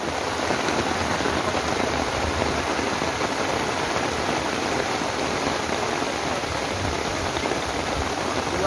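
Heavy rain pours down steadily in Tangerang, a dense, loud, constant hiss of water striking surfaces with no breaks across the whole stretch.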